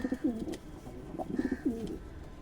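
Large Chennai beauty-line pigeons coo in a few close, rolling phrases, each burst low and throaty with short pauses between, heard alone without talk.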